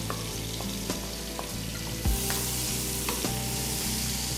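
Onions fry in a pan for asanka, sizzling loudly and continuously close up with occasional clinks and a thud as they are stirred.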